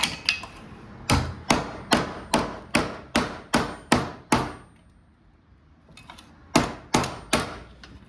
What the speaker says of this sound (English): I bent her down a little bit, so we'll fix that here with this hammer.